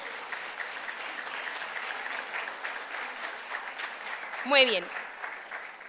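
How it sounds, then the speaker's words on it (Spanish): A congregation at a church plenary gives steady applause, a continuous wash of clapping throughout, while a voice speaks briefly over it near the end. "Ese aplauso es para ellos."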